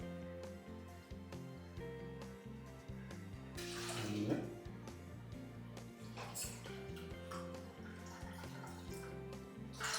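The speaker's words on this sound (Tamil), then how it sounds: "இப்போ 1 கப்பு தேங்காய் பால், 7 கப்பு தண்ணி ஊற்ற போகிறோம்." Water mixed with coconut milk is poured into a pressure cooker for coconut venpongal, a short splashing gush rising above steady background music, with a faint second splash shortly after.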